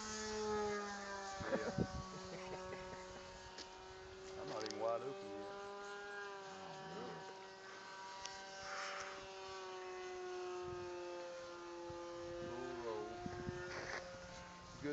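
A model P-47 airplane in flight, its engine a sustained buzzing drone that rises and falls in pitch as it passes and manoeuvres, heard from a distance with people talking at times.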